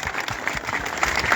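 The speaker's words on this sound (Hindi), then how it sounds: "तालियां" A brief burst of crowd applause at a PMLN political rally in Pakistan, loud and dense for its short length.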